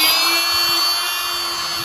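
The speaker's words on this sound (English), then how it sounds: "if you use an oscillating saw, look how smooth that comes out" An oscillating saw cuts through hardened spray foam along a pop-up camper frame, giving a loud, steady, close buzzing whine that holds one pitch throughout.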